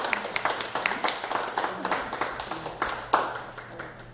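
An audience claps at the closing ceremony of an art association's regular exhibition, a moderate patter of hands with distinct individual claps, steady over several seconds and heard from a short distance without voices.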